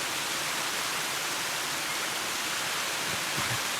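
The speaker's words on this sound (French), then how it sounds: "C'est pas la cascade Pisse-Vache, mais c'est quand même la plus large cascade d'eau thermale de l'hémisphère sud." A broad waterfall of hot thermal water pours with a steady, dense, hissing roar that stays constant throughout, with no voices and only a slight swell near the end.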